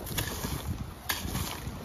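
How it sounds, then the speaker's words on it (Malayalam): Strong outdoor wind gusting steadily against the microphone, a broad continuous rush with a sharper gust partway through, heard on its own without talk. "ഭയങ്കര കാറ്റ്."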